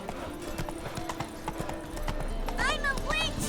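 Hoofbeats of Roach, a horse in The Witcher 3 video game, clip-clop in a steady galloping rhythm under continuous game ambience, with a voice speaking over it and a brief whinny near the end.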